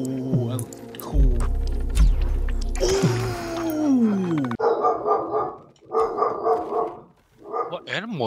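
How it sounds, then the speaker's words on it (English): A dog barks in the survival video game Icarus, a few sharp barks mixed with game sounds and music, while a person talks over the action. "A dog."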